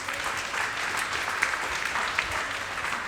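A church congregation claps steadily in a sustained round of applause, dense and even throughout with no voices rising above it.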